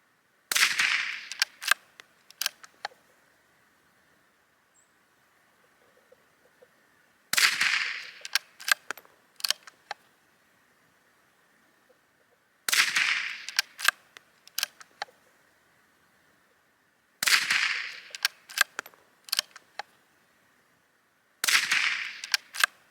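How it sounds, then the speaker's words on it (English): Five spaced bursts of suppressed .22LR rifle fire through a Silencerco Sparrow suppressor, each a quick cluster of sharp, fairly quiet cracks about five seconds apart, with near silence between and a faint steady hum underneath. "Alright, let's do the second group."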